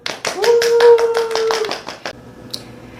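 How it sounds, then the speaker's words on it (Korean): A short burst of clapping welcomes a guest speaker at a Korean senior mental-health talk. Several quick claps come over a held tone for under two seconds, then it drops to near quiet. "박수!"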